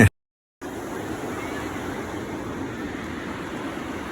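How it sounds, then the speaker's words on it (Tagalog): After a brief dropout, the cold river current of the Halcon in Mindoro rushes in a steady, even wash of flowing water, close and unbroken, with no voices. "maririnig mo yung agos"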